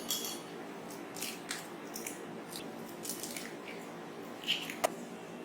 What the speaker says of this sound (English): First, we have to break the eggs in the pan.